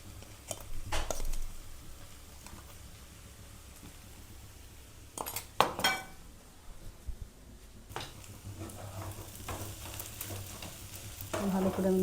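Whole spices are stirred in a sizzling pan with a ladle, giving a steady frying hiss broken by close metallic scrapes and clinks of the ladle against the pan.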